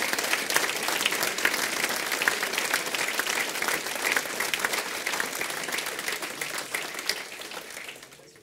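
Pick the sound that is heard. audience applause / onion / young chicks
audience applause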